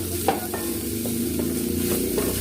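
Unpeeled garlic cloves frying in a pan, a close continuous sizzle with regular soft scrapes of a spatula stirring every half second or so, no voices.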